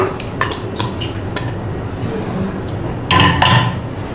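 Chopped onion going into a bowl of flour and gram flour batter, with faint scraping and light utensil clinks, then a louder rattle of a bowl and spoon near the end.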